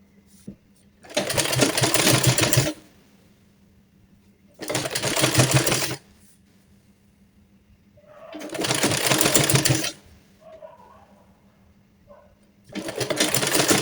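A sewing machine stitches the side seam of a baby dress in four loud, even bursts of rapid whirring, each a second or two long, separated by quiet pauses.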